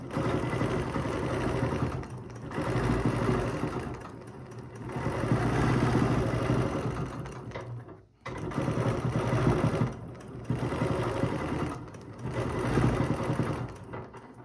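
A quilting machine stitches a geometric pattern across a practice quilt, its rapid mechanical whirr running in long bursts with a short pause partway through, close and steady with no voices.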